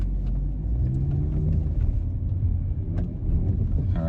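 A car with a 034Motorsport transmission mount insert pulls away in dynamic mode with manual shifting, giving a steady, loud low engine rumble heard from inside the cabin, with faint clicks above it.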